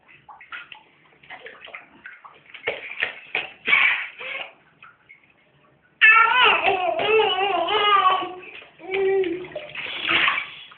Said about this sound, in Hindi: डालो पानी अपने ऊपर डालो।